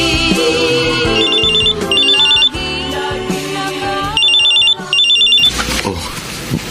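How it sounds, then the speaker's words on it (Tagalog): A mobile phone rings loudly and close with a bright, repeating electronic melody in short pulsed bursts, set over a dramatic music bed, with no talking. "Oh, cellphone mo, Melba."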